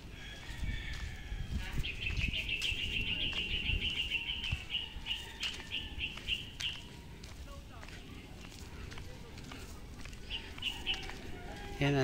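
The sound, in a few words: birds chirping outdoors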